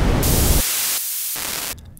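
Noise from Eurorack synthesizer modules used for drum sounds: harsh, hissing static in a few back-to-back filtered sections, first full and bright, then thinner and darker, then bright again, loud and alone.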